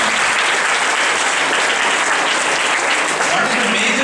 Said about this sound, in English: Claps to this one.